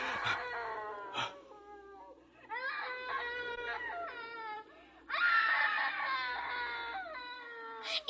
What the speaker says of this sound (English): It's her, Dad. It's the screaming woman.